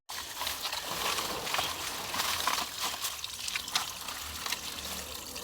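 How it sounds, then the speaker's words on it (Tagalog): Water trickles and splashes steadily from a leaking pipe, a continuous close hiss of running and dribbling liquid without pause. "Yan yung tulo niya."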